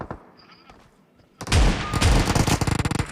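Gunfire from the mobile battle royale game PUBG Mobile bursts in after a quiet stretch, a loud rapid string of shots that turns into evenly spaced pops toward the end.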